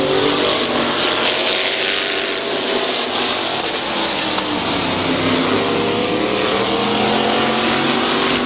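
Race cars roaring steadily around a speedway oval at a fall classic event, a loud continuous engine drone with layered revving from several cars passing, no talk over it.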